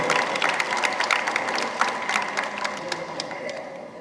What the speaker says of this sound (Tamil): ஒரு அரங்கு நிறைந்த கைத்தட்டலை ஐயா அவர்களுக்கு தர வேண்டும்